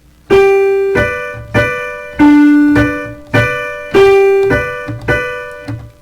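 Six sustained, ringing notes struck in a steady triple-meter pulse, each decaying before the next, played alone at moderate loudness.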